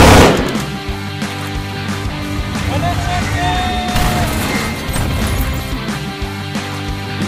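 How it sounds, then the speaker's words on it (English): Video game gunfire from a skateboarding game trailer: dense bursts of shots and crashes over a loud, busy music bed, with a few sharper impacts standing out near the middle. "Even more gun action."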